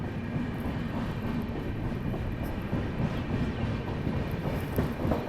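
Indian New Delhi–Bhubaneswar Duronto Express train running through a station, a steady loud rumble of wheels and carriages with faint rail clatter throughout.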